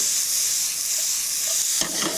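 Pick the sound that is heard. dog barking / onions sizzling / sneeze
onions sizzling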